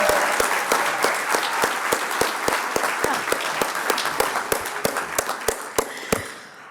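Applause for broadcaster Dave Lee at the 2024 Minnesota Broadcasters Hall of Fame induction ceremony, a steady wash of clapping with a few louder sharp claps standing out, thinning toward the end.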